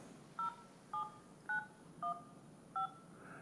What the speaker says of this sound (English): You can call people by dialing in the number or you can use the phone book.